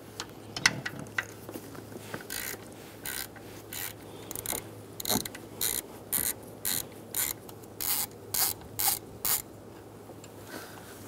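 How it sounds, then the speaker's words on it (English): Hand ratchet backing out a 10 mm bolt on the camshaft position sensor guard of a 2014-2018 Chevrolet Silverado 5.3L V8, a steady run of about a dozen rasping clicks, close and clear after a few scattered taps, no talking. "Remove the 10 millimeter bolt for the camshaft position sensor guard."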